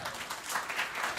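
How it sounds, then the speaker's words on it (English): An audience at a spring recital gives a brief, moderately quiet round of applause, a steady patter of many hands clapping. "Big round of applause for Haley."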